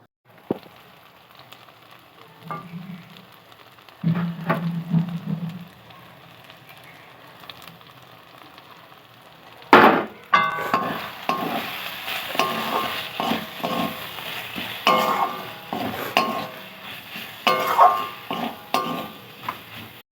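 Tomato with chilli, ginger and garlic paste fries and is stirred in a pan for a Bengali snail curry, first faint, then a loud steady sizzle from about ten seconds with repeated utensil scrapes and clinks.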